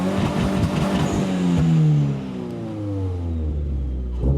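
A Toyota GR86 fitted with an XForce valved exhaust revs with the valves open, a loud rising and falling engine roar that sweeps down in pitch, settles briefly, then flares again.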